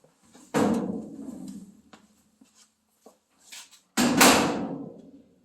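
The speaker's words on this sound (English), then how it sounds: "doors open and close nice and tight now" Two solid door thumps from a 1932 Ford pickup about three seconds apart, each a heavy close with a short ringing decay, with light rustling and small clicks in between.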